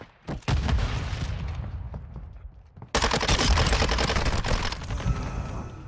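Bursts of loud automatic weapon fire and booming shots in a first-person shooter match, a brief volley, a lull with scattered shots, then a sudden dense, sustained fusillade up close.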